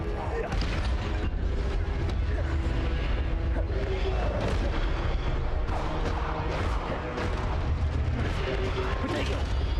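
Incendio fire spell cast in Hogwarts Legacy, a dense stream of fiery bursts and booming impacts piling up in a loud, busy battle mix, with a voice shouting over it.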